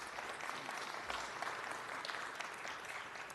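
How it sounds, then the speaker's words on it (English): Sustained applause from a large audience at a city council meeting honoring the Grammy Museum, a dense, steady roar of clapping held evenly throughout with no voices on top. "Let's give them a round of applause."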